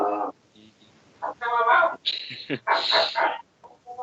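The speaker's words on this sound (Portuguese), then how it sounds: "Vaza cachorro." A dog barks and whimpers in short bursts at close range, with its yips and whines coming in uneven clusters and quiet gaps between them.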